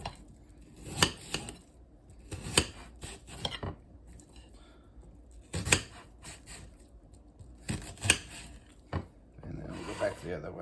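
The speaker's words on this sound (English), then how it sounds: "So I'm not a professional onion cutter, so I'm gonna do the best that I can here" A knife chops through an onion on a cutting board, making a handful of sharp, separate knocks spaced irregularly over about ten seconds, with quieter scraping and handling sounds in between.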